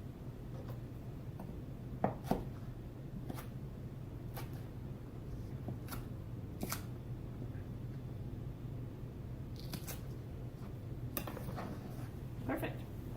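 A knife chops long green onion pieces on a kitchen cutting board, giving sparse, irregular sharp taps over a low steady hum.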